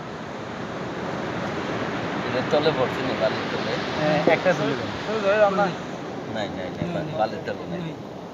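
Ocean surf where sea turtle hatchlings enter the water, a continuous rushing wash of breaking waves with wind noise on the microphone, heard under a voice that speaks throughout.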